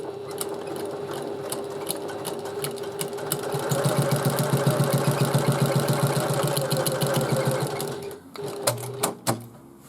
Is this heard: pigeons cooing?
no